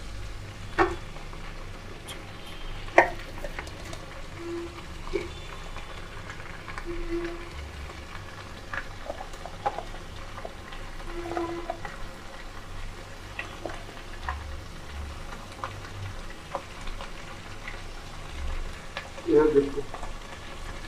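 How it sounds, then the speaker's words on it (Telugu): Onion pieces frying in a pan of oil, a steady low sizzle running throughout with a few scattered clinks and stirring taps, moderately quiet and close. "ఆనియన్ ముక్కలు వేస్తున్నా."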